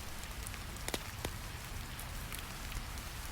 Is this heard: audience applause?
no